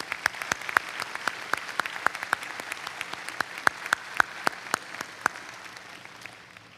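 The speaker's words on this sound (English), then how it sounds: "Please join me in a round of applause" Audience applause at a Mississippi College commencement ceremony, a steady crowd clapping with scattered sharp individual claps standing out near the front, holding even throughout without voices.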